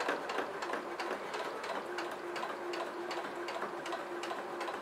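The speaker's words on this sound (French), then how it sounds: "Donc on est parti pour la couture." A sewing machine runs steadily as it stitches a rounded seam in fabric, giving a fast, even, rhythmic mechanical ticking and whirring that is close and constant throughout, with no voices.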